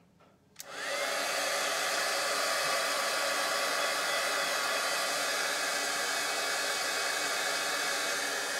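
A heat tool blasts a steady, loud broadband roar after a click at the start, warming embossing powder on a papercraft project until it turns metallic; the whoosh holds constant throughout with no talk.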